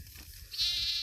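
Sheep bleating near a three-wire sheep and goat fence, a single short bleat rising out of low outdoor background noise.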